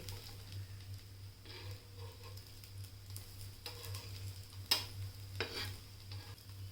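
Bread potato patties fry in a pan with a little oil, giving a quiet, steady sizzle with occasional spatula taps and scrapes as they brown, with no one talking.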